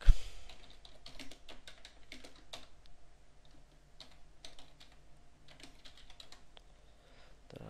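Keys clack on a computer keyboard as C++ code is typed, in quick irregular bursts of close, crisp keystrokes separated by short pauses, with no talking.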